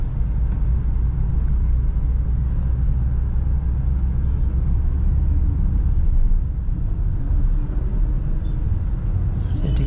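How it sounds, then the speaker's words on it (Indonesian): A manual car pulls away in first gear as the clutch is released, producing a steady, loud low engine rumble and drone from inside the cabin with no clear change in pitch. "pindah gigi satu, handbrake lepas, angkat kopling, tambah sedikit penekanan gasnya"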